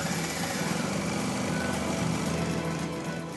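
Small single-cylinder engine of the Alerion supermileage vehicle running on an indoor test rig, giving a loud, rough, buzzing drone with a fast pulsing rhythm that stays steady for a few seconds.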